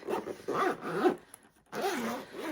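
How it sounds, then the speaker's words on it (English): A zipper on a makeup travel bag with two zippers is pulled open in several quick strokes close up, pauses briefly, then zips again in a longer pull. "So it has 2 zippers, so you can open it on both sides."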